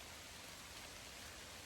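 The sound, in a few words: heavy rain downpour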